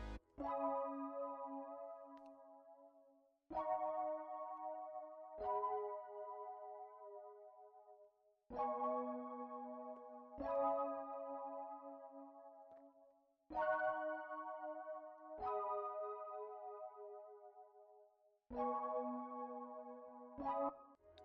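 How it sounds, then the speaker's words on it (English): Electric piano from the Keyzone Classic basic preset, washed in chorus and flanger effects, plays a slow sequence of sustained chords struck roughly every two to three seconds, each ringing out with a shimmering, echoing tail. "I just used the basic electric piano"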